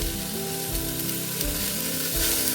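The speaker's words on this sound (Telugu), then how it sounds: "ఇప్పుడు అనపగింజల్ని వంకాయ ముక్కల్ని రెండింటిని బాగా ఆయిల్లో ఫ్రై చేసుకోవాలి" Field beans and brinjal pieces frying in hot oil give a loud, steady sizzle and crackle close up, with a few low knocks from the pan partway through and no voices.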